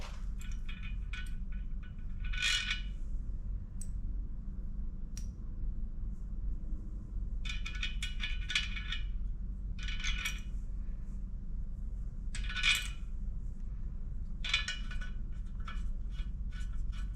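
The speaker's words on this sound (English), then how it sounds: "Get your nuts and bolts." Small metal nuts and bolts clinking in brief bright bursts, scattered across the span, while the propeller is refitted on a Mercury V8 250 Pro XS outboard during service, over a steady low background hum.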